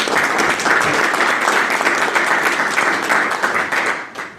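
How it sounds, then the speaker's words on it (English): Audience at the Capitol claps for speaker Jacob Pankratz, a fairly loud, steady round of applause that thins and fades away at the end. "He doesn't often get applause, but it's well deserving of it."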